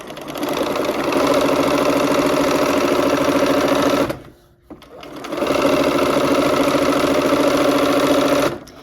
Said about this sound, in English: now we will go to the sewing machine, sew down 1/4 inch on both sides of these and then cut them apart